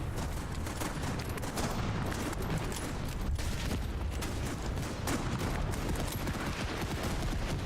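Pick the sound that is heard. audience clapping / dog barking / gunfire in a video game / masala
gunfire in a video game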